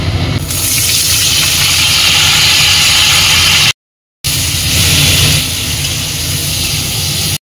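Capsicum and onion fry in hot oil over a high gas flame for chilli chicken, giving a loud, steady close sizzling hiss that cuts out briefly midway and then resumes.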